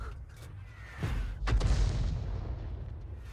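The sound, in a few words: leFH18 howitzer artillery firing in a video game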